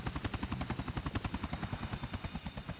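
A helicopter in Grand Theft Auto IV thumps with steady, rapid rotor beats, loud and continuous throughout, with no speech.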